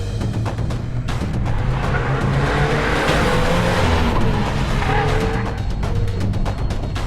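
A Mazda MX-5 ND Miata or Subaru BRZ on an autocross course makes a continuous engine drone from inside the car, with revs rising and easing through the turns and faint tire noise.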